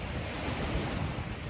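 Ocean waves wash onto a busy beach on a high-water day, a soft, steady hiss of surf heard faintly and alone for a moment.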